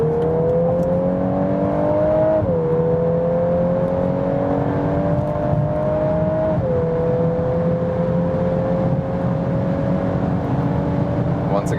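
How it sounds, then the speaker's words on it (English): A VW Golf 8 R accelerates hard at speed out of a tunnel. The loud, close engine note climbs steadily and drops briefly at two quick upshifts, with no talking. "how's the acceleration when we are already at speed, getting out of the tunnel"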